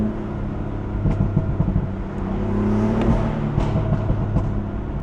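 A BMW M4 on a cold 50-degree road, its engine droning and rising as it accelerates with the tires spinning, loud and close with a steady revving swell and no talking.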